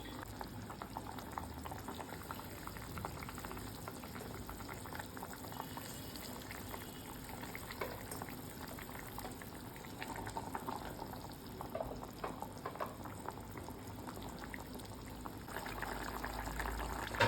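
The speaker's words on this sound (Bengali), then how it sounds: "আমার মাছের ঝোলটা ফুটে গেছে" Bengali fish curry broth with tomato simmers in a pot, a soft continuous bubbling and gentle seething that stays faint and steady throughout with no voices.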